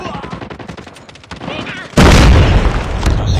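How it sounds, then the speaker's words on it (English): A grenade explodes in a Call of Duty Mobile Hardpoint match on the Crash map: a sudden loud blast about two-thirds of the way in, followed by a sustained roar and rattling gunfire, after earlier scattered shots and game chatter. "Watch out, grenade!"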